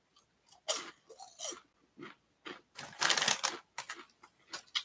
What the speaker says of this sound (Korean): 바삭바삭한 닭껍질 튀깁니다